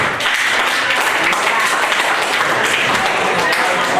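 A steady, dense wash of audience applause at an after-prom hypnosis show, continuous for the whole stretch with no break.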